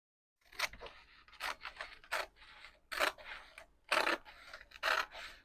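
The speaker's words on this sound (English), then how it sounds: "All right, let's cut this away." Scissors cutting paper for glue book journaling, close and crisp, about a dozen separate snips in an irregular rhythm, with no voices.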